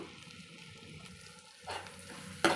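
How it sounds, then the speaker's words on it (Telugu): Tomato pieces and chili powder being stirred in a pan for a potato and egg curry, a soft background sizzle broken by two brief, scraping bursts of stirring. "ఒకసారి కలుపుకుందాం"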